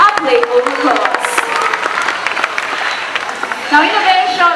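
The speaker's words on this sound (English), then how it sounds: "A playful applause." Applause from spectators at a bird show in a park, scattered moderate clapping under a voice speaking over a loudspeaker, with animated crowd sounds rising near the end.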